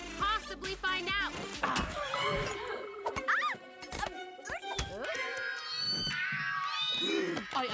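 Animated cartoon cat meowing and caterwauling in a series of loud, pitch-bending cries, with other voices mixed in among them.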